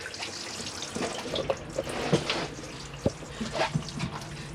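Hot water runs from a tap into a sink inside an Auto Trail Tribute 625 motorhome, a steady close splashing stream with small drips and clatters, moderately quiet and without talk.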